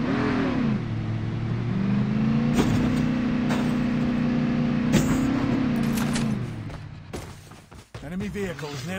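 An enemy vehicle engine in the video game COD Mobile revs and drones loudly and steadily, then cuts away into bursts of gunfire and clattering game effects.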